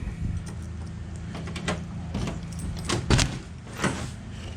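A car door on a 1998 Camaro opens with a few soft clicks, a latch clunk and light rattling, fairly quiet and close, with no talking.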